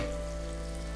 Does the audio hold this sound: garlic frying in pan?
yes